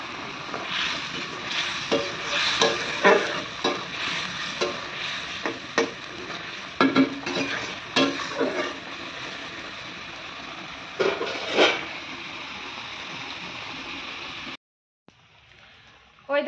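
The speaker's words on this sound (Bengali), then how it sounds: "ওই দেখো ওখানে চিকেন কষা হচ্ছে" Chicken being sautéed in a pan, a steady sizzle with repeated louder scraping and stirring bursts, heard close; it cuts off abruptly near the end.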